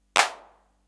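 A single clap sample from a Roland TR1000 drum machine: one sharp, bright burst with a short noisy tail decaying within half a second, alone in silence.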